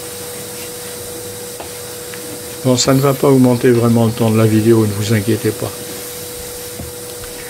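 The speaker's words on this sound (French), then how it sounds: "de temps en temps, il vous montre qu'il a un bon aspirateur" A vacuum cleaner hums steadily throughout while it picks up fine black dust, and someone talks over its drone for a few seconds.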